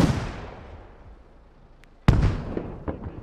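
Gunfire in the military shooter game Squad: a distant shot fades into a long reverberant tail, then a sharp, loud report cracks out, with more scattered pops and their echoes after it.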